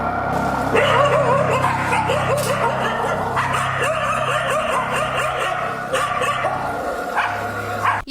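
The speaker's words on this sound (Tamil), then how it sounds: "சிறுமியை பார்த்ததும் மூன்று நாய்கள் கடிக்க முற்படுகின்றன" Three street dogs bark and yip repeatedly at a girl walking alone on a road, with loud, rapid barking throughout and a rooster crowing in the background.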